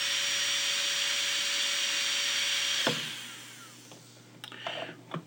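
A micromotor rotary handpiece runs at full power with a steady high-pitched whine that cuts off about three seconds in, followed by faint handling clicks.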